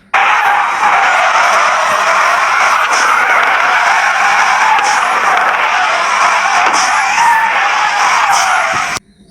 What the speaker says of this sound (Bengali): গাড়িটার যে আওয়াজটা আছে ওই আওয়াজটা শোনাই